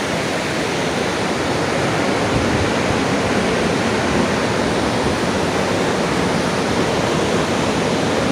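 River water rushes steadily at the Rudraprayag Sangam confluence in the Himalayas, a loud, continuous broadband roar with no breaks or voices.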